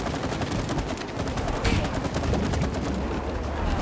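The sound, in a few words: gunfire from the video game It Takes Two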